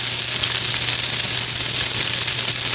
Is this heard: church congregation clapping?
no